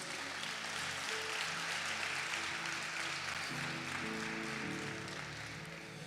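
Church congregation applauding during a worship service, a dense, steady wash of many hands clapping that fills the room at even strength before easing slightly at the end.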